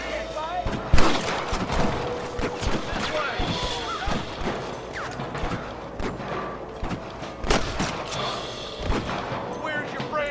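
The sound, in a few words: gunfire in video game Red Dead Redemption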